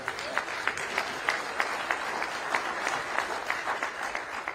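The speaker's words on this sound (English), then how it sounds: "Y'all should be clapping for that." Audience at a Black Men of America conference panel claps steadily, a dense, sustained round of applause from a room full of people, with no talk over it.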